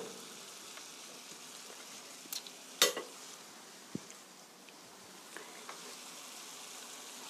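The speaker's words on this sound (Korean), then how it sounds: "양파가 약간 나른하게 될 때까지 볶아주세요." Onions for japchae stir-fry in a pan with a soft, steady sizzle, broken by a few faint scrapes and taps of a utensil, quiet and close, with no one talking.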